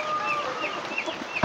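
A green junglefowl clucks in brief, close calls that repeat in a soft run before a louder thump ends the moment.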